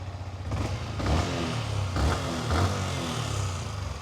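A Yamaha MT motorcycle engine runs after starting, a moderately quiet rumbling idle with uneven pulses and faint mechanical clatter, close by and without talk.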